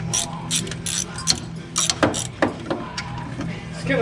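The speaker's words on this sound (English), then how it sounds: "I got a socket, a ratchet, so this is going to be much less painful" A socket ratchet clicks in quick, uneven bursts while loosening parts during removal of a 700R4 transmission from a Corvette, a close, sharp metallic ratcheting with short pauses between strokes and a faint voice underneath.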